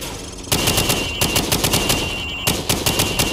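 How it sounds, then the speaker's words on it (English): Rifle fire from the hip at range targets in Call of Duty 4: Modern Warfare, loud rapid bursts of automatic shots in two runs separated by a brief pause, no talking. "Now shoot at the targets while firing from the hip."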